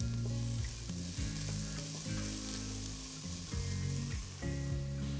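Mixed vegetables for hot and sour soup are stirred in a pan with salt and pepper, giving a steady sizzle and repeated scraping strokes under a low tonal hum.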